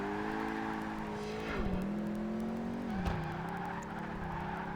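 A muscle car skids around a corner in Project Gotham Racing 2, engine droning steadily as tires squeal in two long slides, loud and continuous with no voices.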